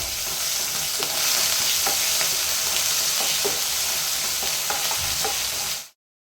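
A green chili, ginger and garlic paste sizzles and crackles in hot oil with a steady hiss and occasional soft stirring clicks, close and continuous until it abruptly stops.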